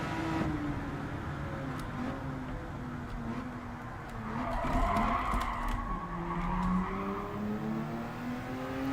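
Tires squeal and skid as a race car brakes hard in Gran Turismo 7, a sustained screech over a droning engine that rises and falls through the corner, loud and near.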